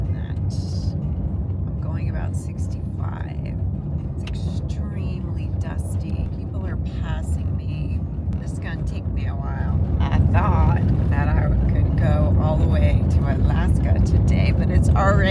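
A car drives slowly along a very bumpy gravel stretch of the Alaska Highway, loud, constant road rumble and tire crunch filling the interior with rattles and jolts throughout, rising slightly toward the end.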